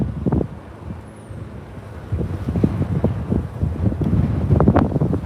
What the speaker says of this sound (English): the wind is ferocious actually